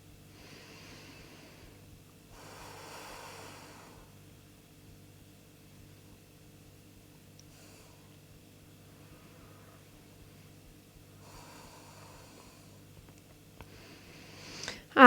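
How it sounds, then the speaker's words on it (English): Slow, close breaths during a vinyasa yoga flow come as a few soft, airy inhales and exhales spaced several seconds apart, with quiet pauses between and no talking. "Noticing how the breath feels, how the breath sounds, where the breath travels."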